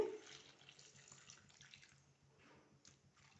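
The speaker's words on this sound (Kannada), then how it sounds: "ವಾಟರ್ ಆ್ಯಡ್ ಮಾಡ್ತೇನೆ" Water runs into a cooking pot of brinjal, tomato, chilli and garlic with a faint, steady splashing trickle, quiet and without talk.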